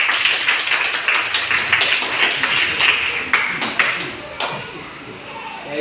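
Classroom clapping after a teacher's question round, with many hands giving dense irregular claps and taps throughout, fairly near and steady, then thinning slightly toward the end.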